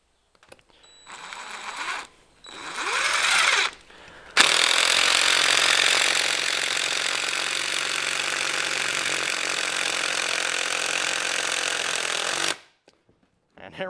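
A DeWalt impact driver drives big screws through wood, with a couple of short bursts first and then one long, loud, steady rattling hammer lasting about eight seconds before stopping.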